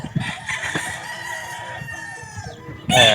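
A Gilmore Hatch gamefowl rooster crows up close in one long, strained cock-a-doodle-doo, followed by clucking. A second loud crow starts right at the end.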